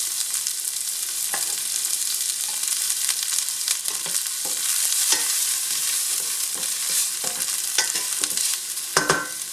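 Garlic frying in hot oil in a pan for beef chop suey, a continuous bright sizzle broken by scattered sharp clicks and scrapes of stirring, close and steady with no voices.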